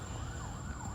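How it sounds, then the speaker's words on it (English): An ambulance siren wails faintly in the distance, its tone rising and falling steadily beneath a hissy background. "I don't know if you hear the ambulance in the background."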